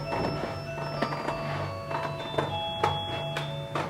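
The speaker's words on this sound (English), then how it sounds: "Doorbell." A home doorbell plays a melodic chime tune, a sequence of clear ringing tones repeating at a steady pace and heard alone at moderate volume.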